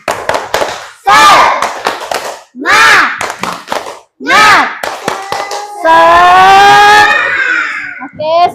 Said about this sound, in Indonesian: biar semangat, kita tepuk semangat dulu